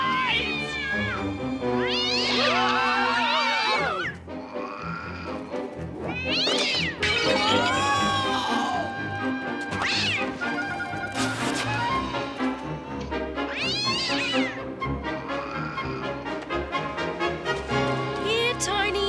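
A cat meows and caterwauls repeatedly in drawn-out, wavering cries, loud and close, with short gaps between calls over about twenty seconds.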